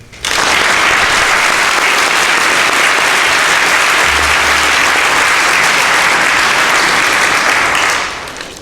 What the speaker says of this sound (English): Please join me in applauding these boys for being nominated for the Heart of the Cougar.